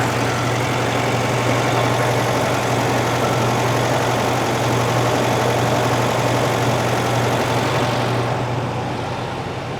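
A 1975 fuel-injected Volkswagen Beetle engine idling steadily and loudly close by, a constant low rumbling drone that holds for nearly ten seconds before easing slightly at the end.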